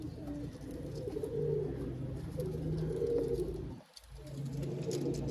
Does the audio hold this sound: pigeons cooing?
yes